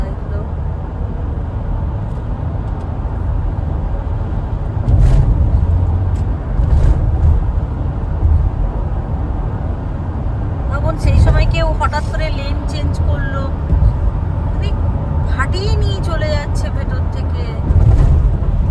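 Motorcycles and other vehicles pass close by on a road, making a steady low engine rumble that swells with each passing machine, with sharper tonal bursts near the end.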